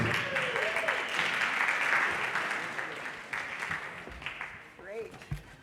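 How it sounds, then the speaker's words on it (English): An audience applauds caregivers at an expert panel event, a broad wash of clapping that fades out over several seconds while voices talk and murmur through it. "you're applauding yourselves as well as caregivers"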